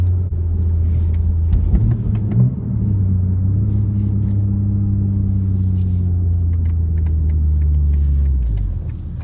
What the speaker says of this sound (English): And you just hear that inline six. It's a good sound.